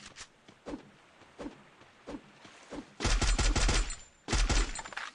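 Gunfire in the video game Free Fire: sharp, evenly spaced single shots crack at a moderate distance, followed by two loud, rapid bursts of automatic fire, with no talk.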